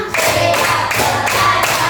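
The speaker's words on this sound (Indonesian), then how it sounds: "tepuk satu, tepuk dua, tepuk tiga, tepuk empat, tepuk lima" A school class claps hands in counted rounds, a close, loud series of rhythmic group claps in uneven clusters with light vocal sounds mixed in.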